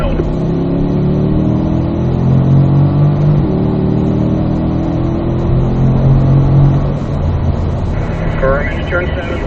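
A Corvette engine pulls hard on a race track, its loud, steady drone climbing through the gears as an instructor talks over it in the cabin.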